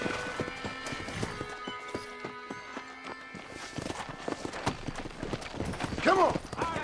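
Horse hooves clop in a steady rhythm in Red Dead Redemption, close and clear beneath music and voices talking, with a brief whinny near the end.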